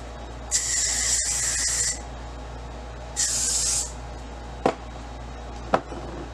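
Two sustained hissing sprays from an aerosol hair spray can, each lasting about a second, followed by a couple of sharp clicks in an otherwise quiet room.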